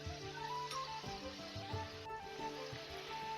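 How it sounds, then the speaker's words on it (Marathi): Coconut-filled karanji pastries sizzle steadily in hot oil, a soft continuous crackle with occasional bubbling pops and light stirring clatter. "बाकीच्या करंजा मी अशा सगळ्या तळून घेते"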